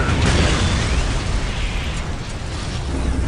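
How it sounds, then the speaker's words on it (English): Basilisk artillery pieces being destroyed in Warhammer 40K: Dawn of War, a dense rumbling wash of explosions and bursts with low booms sustained throughout, loud and close, no talk. "Why have my basilisk cannons been destroyed?"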